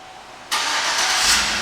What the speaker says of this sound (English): let me show you the remote start